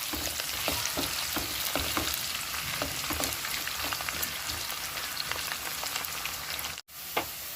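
Parboiled potatoes fry in hot oil for dum aloo with a dense, steady, close-up sizzle and bubbling, and a brief dip near the end.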